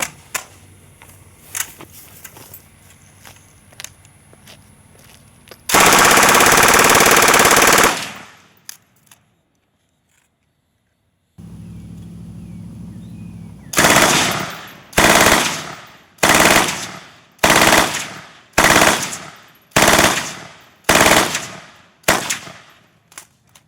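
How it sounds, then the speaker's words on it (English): An MG42 machine gun fires outdoors: a long sustained burst, a pause, then a string of short, loud, evenly spaced bursts, each cutting off sharply. "So there it is, the MG42. It's a hell of a gun"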